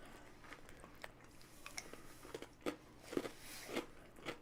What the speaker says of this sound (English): I kind of expect my Oreo to be this crunchy